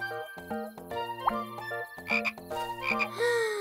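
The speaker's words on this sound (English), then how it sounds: "And a frog." Cartoon frog croaking in a series of musical, tonal croaks with pitch slides, loud and close, with no talking over it.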